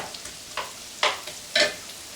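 Onions sizzle and are stirred in a hot pan for shrimp Newburg, giving a soft, steady fry broken by a few short, louder scraping and sizzling bursts.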